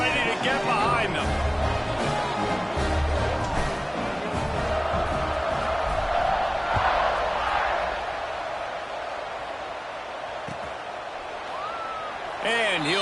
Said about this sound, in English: this crowd now ready to get behind them